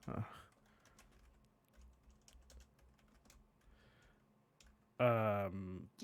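Soft, scattered clicks of a computer keyboard being typed on nearby, quiet and irregular, before a brief voice breaks in near the end.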